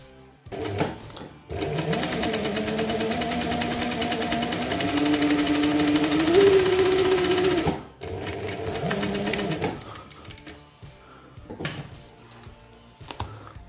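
A sewing machine stitches fabric for women's shorts, running in a steady, close, loud whir for about six seconds, then stopping and starting again in a shorter burst, with quiet handling noises around the runs.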